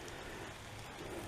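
Steady rain falling at altitude in the mountains, a dense, even hiss of drops on surfaces, faint and continuous with no voices.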